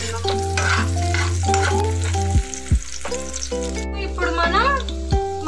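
Carrots sizzle and are stirred in a pan while cooking for pasta, a steady frying hiss running beneath louder background music throughout.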